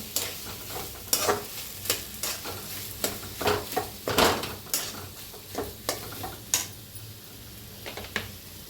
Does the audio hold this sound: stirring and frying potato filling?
yes